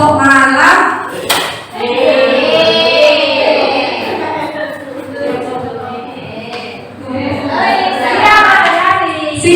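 Rhythmic group clapping chant at a teachers' training session: voices call out in unison while hands clap short patterned bursts between the phrases, loud and close.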